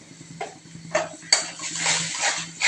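A pot of small puti fish curry with turmeric, chilli powder and salt being stirred, with scattered spoon knocks against metal followed by steadier, close scraping and clatter.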